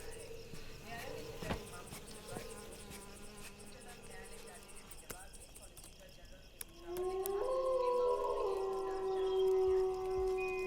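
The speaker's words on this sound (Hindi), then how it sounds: "ये भेड़िया है मैडम जी।" A wolf howls near a jungle in a Bollywood film scene: a long, rising, wavering wail fills the final seconds after quieter indoor sounds and scattered knocks.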